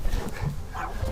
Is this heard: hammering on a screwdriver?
no